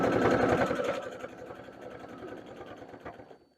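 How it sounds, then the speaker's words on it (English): A sewing machine stitches a burp cloth with a close, rapid rhythmic whirr that slows and softens as it backstitches, then stops after a few seconds. "I'm just going to overlap them by about 1 inch and then back stitch a couple of stitches"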